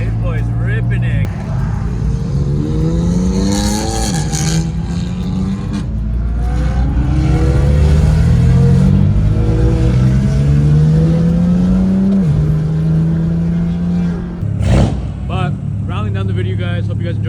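BMW car engines rev hard and accelerate on city streets, pitch climbing and falling through gear changes, loud and close, with a sharp burst near the end.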